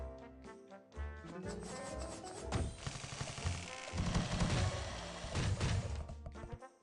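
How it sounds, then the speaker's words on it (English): A large bomb exploding in a video game, heavy booming blasts and crashing bursts layered over busy game sound and music, building louder toward the end with no talk. "Big bomb."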